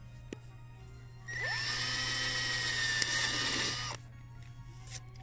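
A power drill boring a hole in metal for a Halloween decoration, whining up quickly and holding a steady high-pitched drone for about two and a half seconds before stopping, close and clear.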